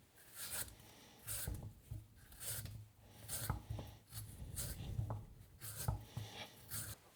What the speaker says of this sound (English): Let's start by peeling the potato and cutting the fries.